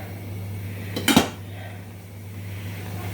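Clatter of metal pots and pans on a kitchen stove while stuffed peppers are set to stew, a single short burst of clanking around one second, close and moderately loud over a steady low hum.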